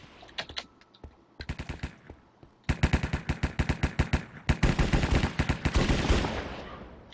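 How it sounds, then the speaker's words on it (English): AK-47 gunfire in a Minecraft Hypixel game, rapid sharp automatic bursts of clicky shots, sparse and scattered at first, then long dense volleys that grow louder and nearly continuous. "I'll go with an AK-47."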